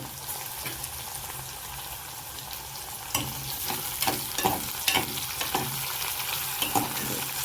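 Chopped tomato goes into tempered rice frying with vegetables in a pan over a low gas flame, a steady close sizzle that swells partway through as stirring scrapes and clatters, with no talk.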